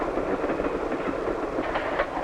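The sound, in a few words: train travelling through mountain tunnel, 1950s film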